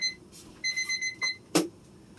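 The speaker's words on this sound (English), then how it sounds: "there goes my timer" A kitchen timer goes off while a pumpkin roll is being made, giving a few short electronic beeps in quick succession, moderately loud in a quiet room.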